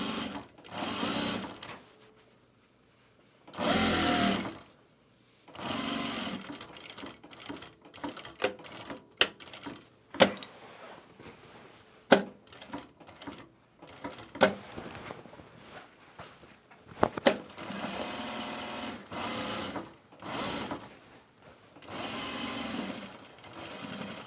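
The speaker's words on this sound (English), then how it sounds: "I think I might double top stitch this because I'm going to do a very small seam here." A sewing machine top stitches a seam on a garment duffle bag in repeated close bursts of fast rattling stitching, separated by pauses and small handling clicks.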